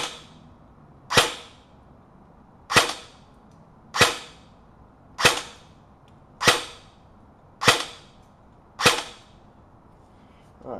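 An Echo1 Robinson Armament XCR airsoft electric rifle firing 0.25 gram BBs over a chronograph, eight sharp single shots spaced about a second and a half apart, each with a short decay, close and clear against quiet background.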